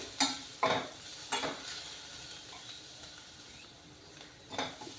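Onions fry in a pan with a soft, steady sizzle, broken by several sharp metallic scrapes and clinks as a spatula stirs them.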